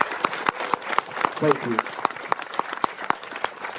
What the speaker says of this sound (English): how about a round of applause for our leader at the high school